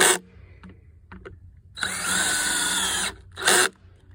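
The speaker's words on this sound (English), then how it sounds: "I just got these last two screws here to put in." A power drill drives screws into a wooden hay feeder on a farm: one longer whirring burst, then a short second burst, with quiet gaps and faint knocks around them.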